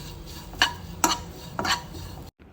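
Spoon stirring salt and turmeric into a vadi and rotli mixture in a pot over a low flame, with three distinct scraping clinks against the vessel over a soft kitchen background, then sudden silence.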